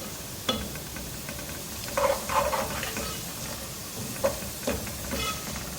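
Whole black pepper, cloves and cumin frying in hot oil give a soft, steady sizzle with scattered small pops and crackles. The sound is fairly quiet and no one speaks over it.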